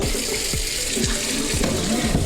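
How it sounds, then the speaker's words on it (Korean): A waterfall-style faucet pours a steady, unbroken stream into a newly installed small office kitchen sink with an embossed coated bowl, running close and constant throughout with no talking. "폭포수수전 요즘 유행하죠?"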